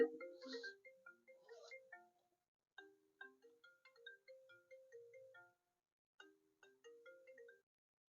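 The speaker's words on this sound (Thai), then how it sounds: "เสียงโทรศัพท์เขา" A mobile phone ringing outdoors in a forest: a repeating electronic melody of short tonal notes in phrases separated by brief gaps, clear but fairly quiet, with no talk over it.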